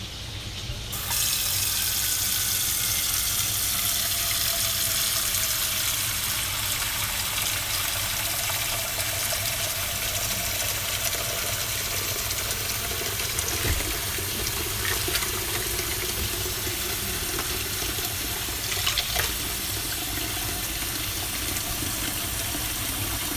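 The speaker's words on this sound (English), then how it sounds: "in this big pot that I have here, I'm going to add some water to it for the cauliflower" Tap water runs steadily into a big cooking pot being filled to boil cauliflower, a continuous, close splashing rush that lasts throughout with only slight changes in tone and no talking.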